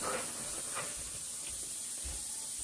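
Flour-coated pork chops fry in hot oil, giving a steady, fairly quiet sizzling hiss with faint pops and crackles and no talking.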